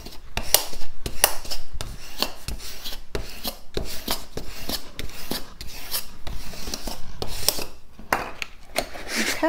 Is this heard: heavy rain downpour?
no